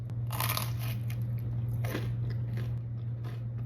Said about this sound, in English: Next up is a Kylie Jenner avocado toast.